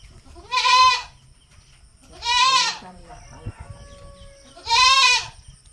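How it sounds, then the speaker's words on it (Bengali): A young goat kid, held in someone's lap to be fed milk, gives three loud, close bleats spaced evenly a couple of seconds apart, with faint background noise between them. "ছাগল বাচ্চাকে কোলে নিয়ে দুধ খাওয়াচ্ছে"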